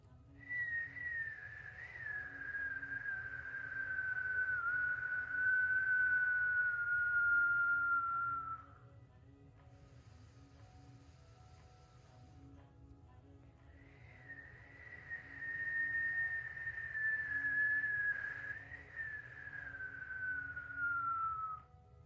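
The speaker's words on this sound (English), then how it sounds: "it's okay if you can't whistle." A person whistles two long sustained notes, each gently sliding downward, separated by a quiet pause, over a low background hum.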